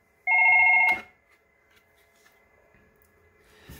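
A Fanvil X7 touchscreen desk phone gives one short, loud electronic ring burst after a call transfer, then falls quiet except for a few faint clicks and handling sounds.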